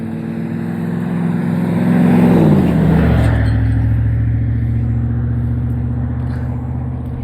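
A car swells in and passes along a road during a walk, a loud rising rumble that peaks midway and then fades slowly away, with no talking.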